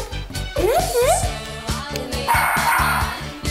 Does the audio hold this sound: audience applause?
no